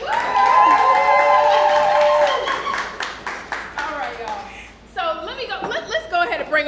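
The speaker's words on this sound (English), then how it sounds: "Round of applause, y'all." A live audience at a workshop event gives a round of applause, with clapping and light laughter and cheering mixed in alongside a host speaking over a microphone.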